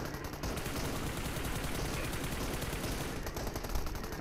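Gunfire in a video game rattles almost without pause, a dense, loud barrage of shots and bursts that fills the whole stretch with no break.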